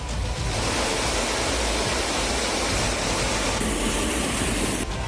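Monsoon floodwater in China rushes with a loud, dense, unbroken roar, steady from start to finish with no voices.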